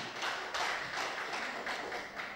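Webinar participants give a short patter of applause, a light, fairly muffled run of uneven claps rising and falling for a couple of seconds.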